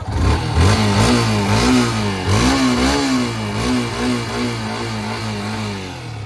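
A motorcycle engine revs up and down repeatedly at close range, loud and rough with a steady underlying idle between throttle blips, alone without talk.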